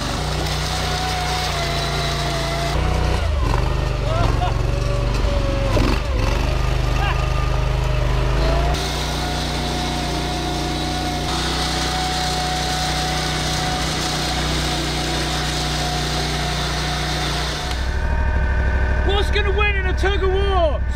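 A screw tank engine running loud and close, a buzzing high-revving drone that shifts pitch several times, dropping away near the end to a lower idle with a few whiny rises.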